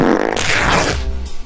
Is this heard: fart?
yes